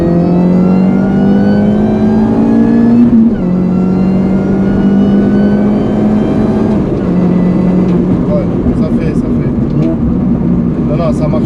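A Valkyrie's engine revs hard and continuously on a dyno bench run, the loud, close pitch climbing steadily with a brief dip partway as it pulls up, while someone talks over it.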